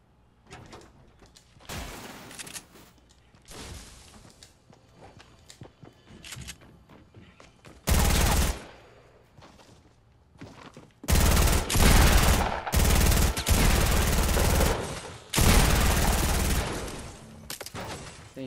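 Bursts of rapid Fortnite gunfire erupt in the second half, loud and sustained, after a stretch of quieter game sounds and scattered shots.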